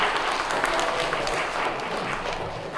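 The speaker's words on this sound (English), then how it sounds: "Let's give a round of applause" An audience claps for the winner of a balloon game at a science show, a brief, dense burst of applause that fades slightly toward the end.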